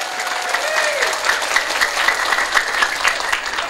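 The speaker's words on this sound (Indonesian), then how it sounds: "Tepuk tangannya buat panitia dong." An audience at a large Islamic religious gathering claps for the organising committee, a steady, moderately close patter of many hands lasting the whole stretch with no talk over it.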